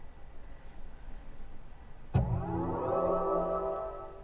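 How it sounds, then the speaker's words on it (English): A gold BMW plays its start-up sound as the car is switched on, a sudden soft thump followed by a rising, resonant chime that rings on for a couple of seconds in a quiet interior. "That's what you can hear when you turn the car on."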